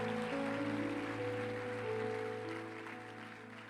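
A church congregation applauding together, a steady wash of clapping over sustained organ or keyboard chords that fades slightly toward the end.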